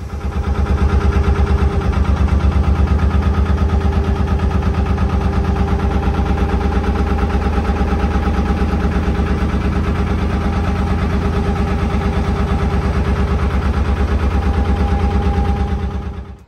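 A narrowboat engine idles loud and near at Springwell lock, its rapid even chugging pulse continuing steadily throughout.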